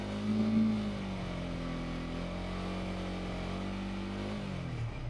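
A 2025 Yamaha MT15 DLX motorcycle engine is held at a steady rev of about 5000 rpm, with a slight swell at the start and then a constant, close, loud drone.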